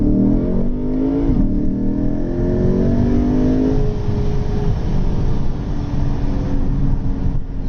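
A Lexus RC F with a naturally aspirated, high-revving engine accelerates at part throttle, its engine note rising steadily with strong harmonics before settling into a loud, sustained drone as the car cruises on.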